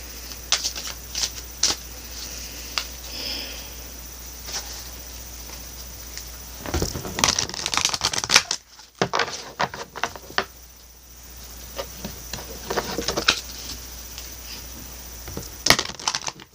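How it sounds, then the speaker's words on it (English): A Sacred Rebels Oracle deck of cards is shuffled by hand, with soft, irregular riffling and tapping that comes in bursts and pauses, close and fairly quiet. "Now I'm also going to pull 2 cards from the Sacred Rebels Oracle deck."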